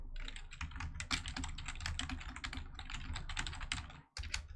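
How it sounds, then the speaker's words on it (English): Rapid typing on a computer keyboard, dense clicking keystrokes continuing steadily for several seconds with a brief pause near the end, close and fairly quiet, no talking. "Just typing it up real quick."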